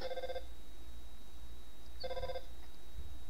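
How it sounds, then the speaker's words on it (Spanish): A telephone rings in the video game Undertale, two short electronic trills about two seconds apart over a steady background hum. "¿Quién llama por teléfono?"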